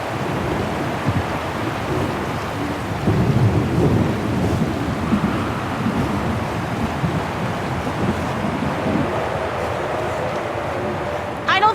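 Thunderstorm in the Syberia: The World Before video game, a steady roar of heavy rain and wind with low rumbling thunder rolling underneath throughout, plus a brief sharper crack near the end.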